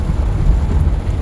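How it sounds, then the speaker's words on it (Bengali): Heavy rain pours steadily during a drive on a national highway near the Hollongi border in Arunachal Pradesh, a dense, loud low rumble of rain and wind noise with no break and no voices. "আবার জোরে বৃষ্টি নেমে গেছে"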